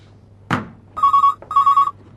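An old-style telephone bell rings twice in steady bursts, close and clear, after a short thump, over a low hum. There is no speech.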